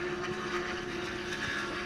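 Porsche race car at the Daytona historic 24-hour event accelerating onto the banking as the throttle opens, a steady droning engine roar with sustained tone and road noise, moderately loud and continuous, no talk.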